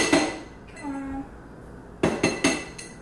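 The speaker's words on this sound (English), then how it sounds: "I'm just gonna dump the mango into my Vitamix cup" Mango pieces dropped into a Vitamix blender cup produce a few close hard clunks and clatters against the container, with a short ringing tone in between, and nobody speaking.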